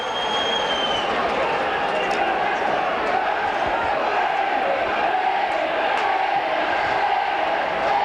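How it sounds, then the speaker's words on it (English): Rugby league crowd at Wigan versus Castleford in a 1993 playoff, a sustained loud roar from a large stadium audience with commentary over it. "Crowd roaring for offside as Castleford lining well up on Wigan."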